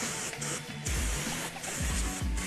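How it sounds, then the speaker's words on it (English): A can of non-stick cooking spray hisses onto a waffle machine in two or three short bursts, each a quick airy spritz close by, with quiet room noise between them. "we have non-stick spray."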